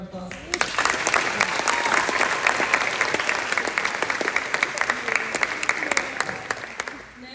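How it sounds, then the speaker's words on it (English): An audience at a high school sports awards ceremony breaks into applause, a dense, lively patter of many hands with sharper nearby claps scattered throughout, holding steady before tapering off, with some voices mixed underneath. "I just want to give her a round of applause"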